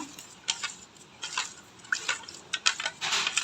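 Rice flour is stirred into water in a bowl to make ragi-style koozh batter, giving soft liquid swishes and light clinks in short irregular bursts, close and fairly quiet.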